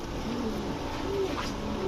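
A male silver pigeon with a green neck coos softly in a continuous, low murmur, close by and unbroken, with no clear pauses.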